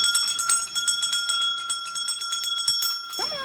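A bell rung at a front-yard pond to call fish for feeding jingles rapidly and continuously, bright ringing strokes close and clear for several seconds before trailing off.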